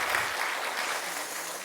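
A church congregation at a Wednesday worship service applauds together, a dense, steady wash of clapping that holds at an even loudness throughout with no voices over it.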